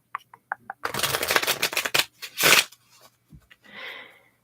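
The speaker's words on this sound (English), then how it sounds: "And I will shuffle your cards." A few light taps, then a quick riffle of playing cards being shuffled, followed by a second softer riffle; no one speaks.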